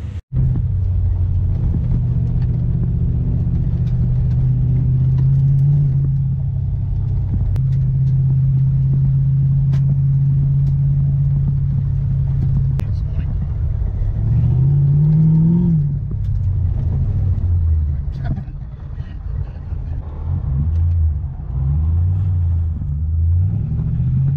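A Toyota pickup (ute) with a 1UZ-FE VVT-i V8 and a manual gearbox drives along, its deep engine rumble steady and loud throughout, with rising revs and gear changes toward the end.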